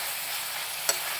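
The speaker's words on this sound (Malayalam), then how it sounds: "തുടർച്ചയായിട്ട് ഇളക്കിക്കൊണ്ടിരിക്കണം. സവോള നന്നായിട്ടൊന്ന് വാടി വരണം." Chopped onions fry in a pan for a Kerala-style fish molly, a soft, steady sizzle while being stirred, with one brief scrape of the spoon near the end.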